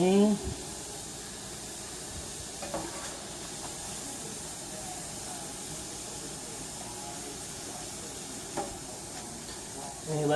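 Homemade green chile stew with Hatch roasted green chile and New Mexico Bueno brand chile boils in a pot, giving a steady close bubbling hiss and sizzle that runs unbroken, with a few soft knocks.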